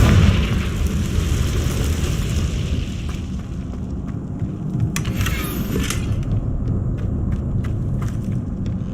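Blasting spell explosion in Hogwarts Legacy on hard difficulty, a loud sustained rumbling boom that fades into a steady roar, with a brief crackling burst midway and no talking.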